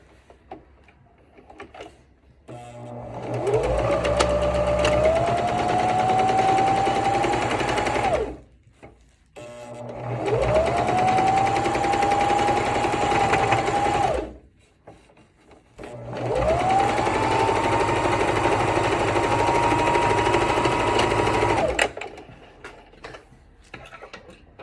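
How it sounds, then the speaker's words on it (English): Sewing machine top stitching the bottom edge of a fabric face mask, three close, steady bursts of fast whirring stitching, each spinning up and running several seconds, separated by short pauses. "I'm just gonna do a top stitch again, right on the edge of the bottom to make sure my mask is nice and sturdy."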